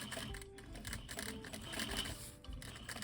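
A sewing machine stitches a fabric seam in short, rapid mechanical bursts, faint and close, with brief pauses between runs of stitching.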